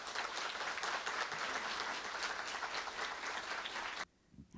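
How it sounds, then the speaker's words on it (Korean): Steady, dense audience applause welcomes an acoustic guitar band at a monthly company assembly, sustained for about four seconds before cutting off abruptly. "여러분 큰 박수로 맞이해 주십시오"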